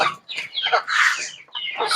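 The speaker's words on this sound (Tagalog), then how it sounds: "magpapakain pala tayo sa ating mga alagang manok" Several native chickens, two months old, cluck close by at feeding time in quick, irregular bursts, with brief pauses between calls.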